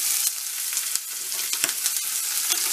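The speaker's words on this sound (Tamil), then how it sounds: "ஆனியன் போட்டு நல்லா வதக்குவோம்." Onions sautéing in hot oil with cumin, fennel, cinnamon and cloves for a Tamil mutton curry, a steady close sizzle with scattered crackles and occasional stirring scrapes, no voices.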